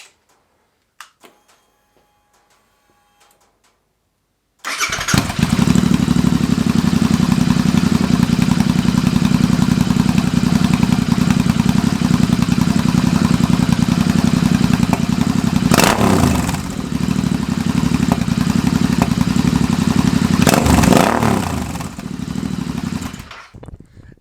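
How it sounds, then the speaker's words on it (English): A Royal Enfield Continental GT 650 fitted with an Emgo slash-cut exhaust starts after a few seconds of quiet, then holds a loud, deep, steady rumble close by, with brief throttle blips midway before easing near the end. "you can have a listen to this bike starting up"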